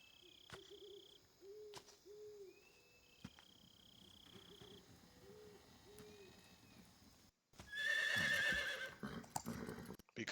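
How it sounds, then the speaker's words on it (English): A horse neighs in Metal Gear Solid 3: Snake Eater, a few clear whinnies set over a quiet night ambience of crickets and soft hoof steps, followed by a louder burst of game sound near the end. "Why do I hear a horse?"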